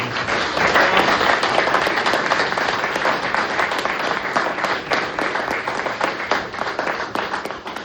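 A crowd at a rugby club memorial stand tribute for fallen World War One players claps warmly, dense steady applause close by that slowly thins toward the end.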